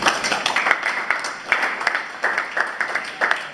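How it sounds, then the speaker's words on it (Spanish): Students in a classroom applaud, a close, steady patter of many hands clapping with small rhythmic surges, lasting a few seconds. "un fuerte aplauso para ustedes"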